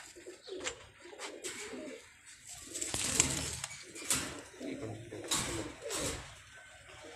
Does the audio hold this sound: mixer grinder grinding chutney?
no